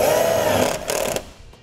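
A self-tapping screw is driven into vehicle sheet metal by a power driver, giving a short close whirring grind that rises in pitch, then cuts off with faint mechanical clicks after.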